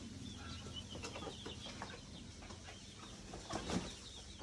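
Beak-trimmed farm chickens peck at one another in a poultry shed, a low steady rustle and scratching with scattered clucks and a brief flurry of wing flapping near the end.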